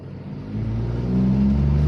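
VW Polo engine fitted with a performance air filter, revving up: a steady low engine drone that swells and climbs in pitch as the throttle opens, close and loud, with no talking.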